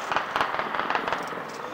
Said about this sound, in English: armed groups intensively opened gunfire at the law enforcement center again